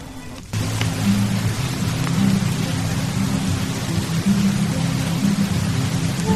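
Rain falls steadily outside a mountain cottage, a dense, even hiss with a low rumble underneath that carries on unbroken and fairly loud, with no voices.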